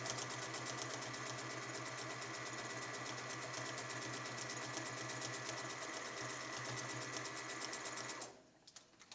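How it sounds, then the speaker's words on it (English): A sewing machine runs a shoulder seam joining the front and back pieces of a pullover, a fast, even mechanical chatter held close and steady for about eight seconds before stopping abruptly. "you want to take your front and your back piece and sew the shoulders"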